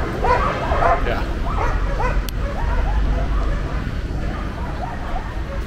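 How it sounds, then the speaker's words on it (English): Several dogs at a dog park bark, yip and whimper in a loud, continuous chorus, close by, with people talking over the commotion. "the dogs are going absolutely insane over here."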